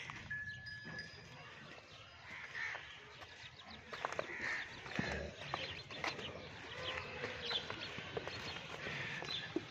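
Hooves of a Friesian cross cow clop irregularly on hard ground at a moderate distance, with faint birds and outdoor ambience around them, in Punjab, Pakistan.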